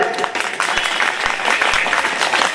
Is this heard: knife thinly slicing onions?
no